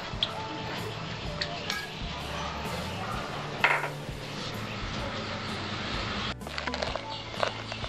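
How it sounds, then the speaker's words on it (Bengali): A metal wok is set on a stove and oil is poured in, bringing light clinks and taps of cookware over a faint background hum, with a sharper knock partway through. "কড়াইটা বসিয়ে আমি তেল দেবো"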